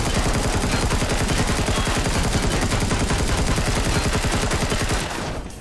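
Rapid sustained gunfire in a sci-fi video game, a dense loud stream of shots fired close together for about five seconds before tapering off.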